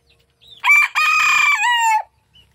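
A labuyo red junglefowl rooster crows nearby: one clear, loud cock-a-doodle-doo in a few rising and falling segments against a quiet background.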